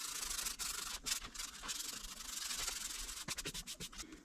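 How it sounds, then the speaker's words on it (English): Old dirt bike plastics being hand-sanded, a close, steady abrasive rasp in repeated back-and-forth strokes that quicken into short rubs toward the end, with no voices. "We'll just keep sanding until those are gone."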